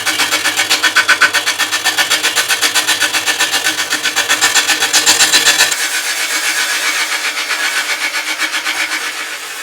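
A walnut bowl blank, cracked and out of round, spins on a wood lathe as a tool cuts its outside, giving loud, rapid rhythmic scraping pulses that continue throughout, with the deeper rumble dropping away partway through.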